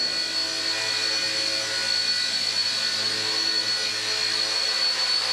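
Small RC helicopter motor spun up at throttle, a steady high-pitched whine with a constant buzzing tone holding level and close for the whole stretch.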